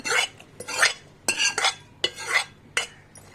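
A spoon stirs roasted cashews, raisins and almonds into cupcake batter in a bowl, making about six quick, close scraping strokes in a steady rhythm, with no voices.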